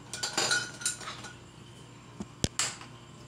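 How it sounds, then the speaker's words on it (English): A metal spoon rattling and clinking against dishes nearby, a cluster of bright clinks at first, then a quieter pause before a sharp single knock and one more clink. "It's just a spoon."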